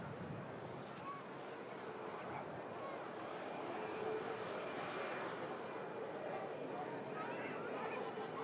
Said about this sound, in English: I do believe we got a Turkish 330 on the way in